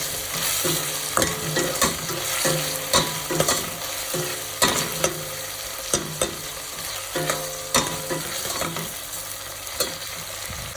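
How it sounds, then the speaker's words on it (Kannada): Onion and tomato sizzle steadily in a pan while a spoon scrapes and clicks against it at a regular, close rhythm. "1 ದಪ್ಪ ನೀರುಳ್ಳಿ, 1 ದಪ್ಪ ಟೊಮೆಟೊ ಚೆನ್ನಾಗಿ ಫ್ರೈ ಮಾಡ್ಕೊಳ್ತೇನೆ"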